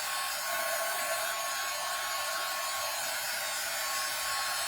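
Steady, loud hair dryer whoosh blowing continuously over a tropical-themed craft project, a broad airy roar with no pauses or talk.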